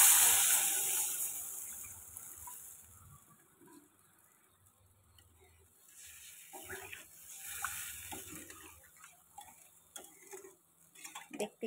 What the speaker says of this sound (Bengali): তো এবারে দেখো পরিমাণ মতন জল দিয়ে দেবো।